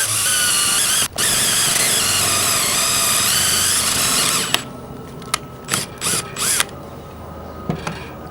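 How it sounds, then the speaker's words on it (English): A 7/32 bit drilling through the metal cover of a tripod mount makes a loud, sustained high-pitched drill whine close by. It briefly dips, then stops, followed by several short bursts and clicks. "Now that we've got our hole drilled"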